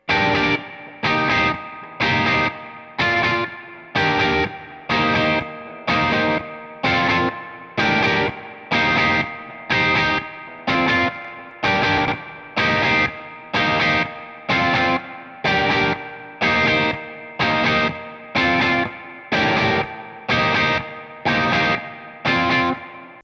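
Distorted Squier Classic Vibe '50s Telecaster electric guitar with a maple neck strummed in a steady, repeating rhythm of chords, loud and close, with no voices.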